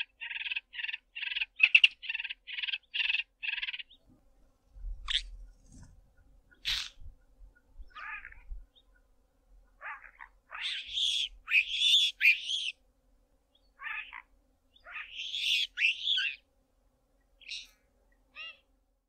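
Capped wheatear mimicking the squeals of a baby chacma baboon, a rapid run of repeated high chirps followed by scattered squealing calls, close and clear against a quiet background.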